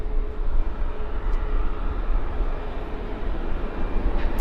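A WestJet airliner taxis at Vancouver airport in the evening, giving a steady, loud low jet rumble and whine that holds evenly throughout, with no talk over it.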